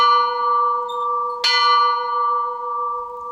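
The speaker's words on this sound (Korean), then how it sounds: "후터키는 종소리에 잠에서 깨어났다." A church bell rings out with a long, sustained tone that decays slowly, struck again once midway, clear and fairly close with nothing else around it.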